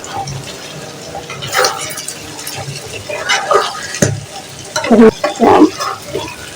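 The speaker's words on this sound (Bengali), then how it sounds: "এই পটটা আমি সকালেই কষে রেখেছিলাম সিদ্ধ হয়ে গিয়েছে আমি এখান থেকে ভাজা ভাজা করে নেব" Boiled, pre-cooked beef frying in a pot, a crackling sizzle broken by loud scraping and stirring bursts, close and uneven in rhythm.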